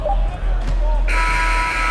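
Final buzzer in an NBA 2K23 basketball video game, 76ers versus Grizzlies: a loud electronic buzz sounds partway through, over crowd noise and a commentator talking.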